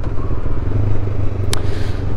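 A motorcycle rumbles along a mountain road in the Alps, its low engine drone steady and close for a brief stretch, with a short sharp clatter near the end.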